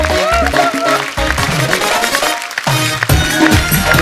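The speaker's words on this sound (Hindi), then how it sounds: "जोरदार तालियां" Loud, sustained studio-audience applause fills a TV comedy show stage as celebrity guests are welcomed, with music playing alongside the clapping.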